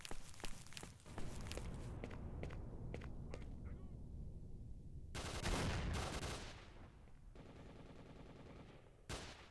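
Gunfire in the video game S.T.A.L.K.E.R.: Shadow of Chernobyl, heard faint against a steady background. Sharp single shots come first, then a longer burst of rapid automatic fire and a few later shots.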